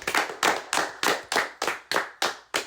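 Rhythmic, close hand claps ring out, about nine sharp claps evenly spaced, with no talk over them.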